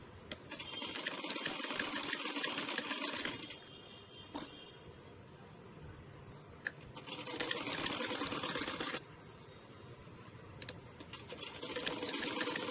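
A sewing machine stitches net fabric parts for a baby umbrella frock, running in three loud, rapid bursts separated by quieter pauses with faint clicks.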